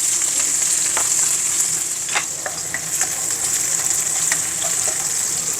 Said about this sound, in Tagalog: Tapos gisa na rin yung bawang.